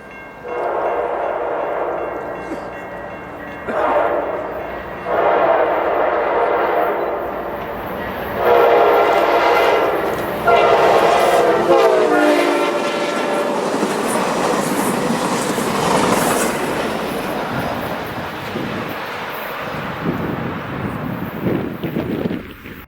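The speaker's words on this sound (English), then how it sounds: "here came Amtrak 71 with NCDOT's 30th anniversary unit in charge of the" Amtrak 71, a southbound passenger train led by NCDOT's 30th anniversary locomotive, sounds a series of loud horn blasts as it approaches, followed by the rolling roar and wheel clatter of the train passing close by.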